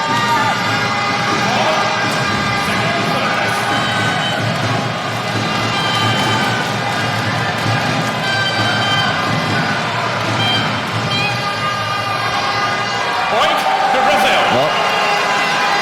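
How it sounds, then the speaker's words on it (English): A large indoor crowd roars and cheers steadily throughout a Teqball World Cup doubles bronze match between Romania and Brazil, with a commentator talking over the din. "this noise from the crowd in here may well just help them on the way"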